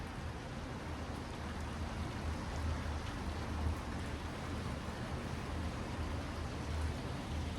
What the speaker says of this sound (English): show you guys the rain. I don't know if you can see it's going sideways over there.